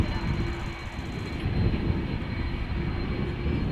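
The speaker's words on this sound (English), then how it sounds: "Airbus A330-300" An Airbus A330-300 jet departs from Amsterdam Schiphol Airport with a loud, steady engine roar that swells slightly over a few seconds, heard up close.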